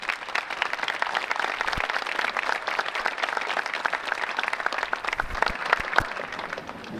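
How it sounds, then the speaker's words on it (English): Dense, continuous clapping from a large crowd fills the hall at the Westford Academy Class of 2018 graduation ceremony, honoring a speaker, with a few sharper individual claps standing out from the steady wash. "How about another round of applause for this special woman?"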